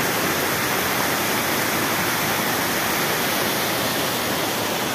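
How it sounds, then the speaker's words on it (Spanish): The Cañonalejo river rushes steadily nearby, a dense, loud, continuous wash of flowing water with no breaks or other sounds. "Río Cañonalejo al fondo."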